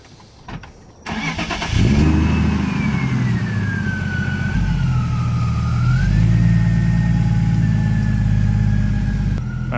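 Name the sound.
supercharged giveaway car engine idling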